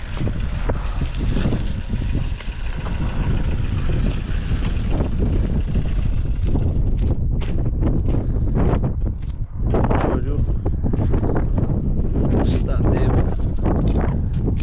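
Strong wind from a snowstorm roars steadily into the microphone, with gusty buffeting and rumble throughout, loud and close, with no clear voices.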